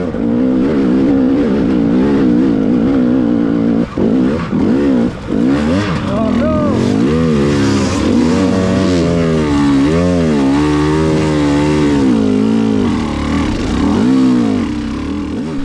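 A dirt bike on a single-track trail drones loud and close as the throttle eases off, the engine note dropping and wavering through downshifts, then pulling again in a steady, rising buzz.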